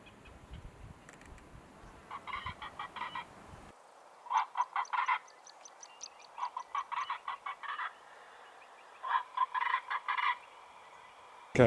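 A bird's repeated bursts of loud, rattling croaks come in rhythmic clusters with short pauses between them, over quiet background ambience, in West Coast National Park, South Africa.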